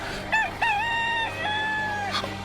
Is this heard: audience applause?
no